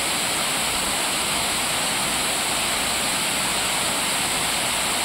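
A river waterfall swollen after rains rushes in a loud, constant roar of white water, steady and close throughout with no voices.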